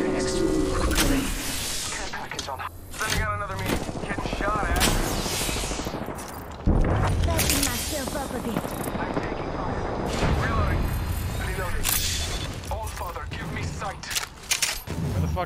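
Heavy, continuous gunfire in the battle royale shooter Apex Legends on the Thermal Station arena map, with dense bursts of automatic fire, booming impacts and mechanical clatter throughout, loud and chaotic, while voices talk over it at times.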